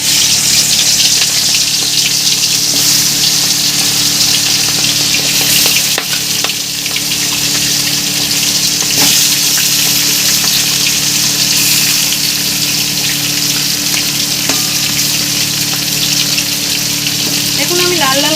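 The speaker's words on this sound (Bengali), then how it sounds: "দেখুন তেলটা এখানে গরম হয়ে গেছে, এখানে একে একে কাঁটাগুলো এবার ছেড়ে দেবো আমি মাছের কাঁটাগুলো" Bhetki fish bones frying in hot oil, a dense, constant sizzle that stays loud and even throughout, with occasional faint background clatter.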